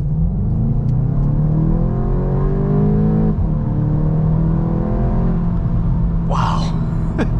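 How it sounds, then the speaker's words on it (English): A 2022 VW Golf GTI SE with DSG transmission accelerating at full throttle from about 25 mph, engine note climbing steadily through rising harmonics with a shift midway, loud and close from inside the cabin. "We're going to floor it and see how the transmission reacts."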